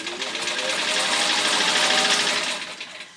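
A 1952 straight-stitch sewing machine, freshly oiled, runs in one continuous close whirring burst with a rapid mechanical chatter, rising and then easing off after about three seconds.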